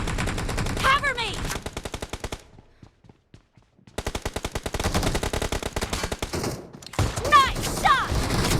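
Rapid bursts of automatic gunfire from a shooter video game, loud and close, with a brief silent gap midway before the shooting resumes in dense, chattering volleys.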